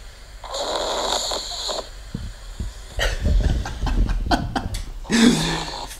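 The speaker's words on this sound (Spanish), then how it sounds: "Son ronquidos." A small 2.5 kg dog snores at night, with several loud, rough snoring breaths repeating close by, each a drawn-out rasp separated by short pauses.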